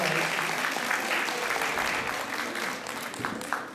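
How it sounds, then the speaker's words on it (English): Audience applause, a steady patter of many hands clapping that fades slightly toward the end, heard from nearby. "please give them a round of applause"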